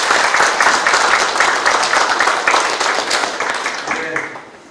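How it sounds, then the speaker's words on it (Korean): An audience at a community meeting with the city mayor in Changjeon-dong claps together in a loud, rhythmic burst for about four seconds before the applause fades out. "박수 한번 해주세요."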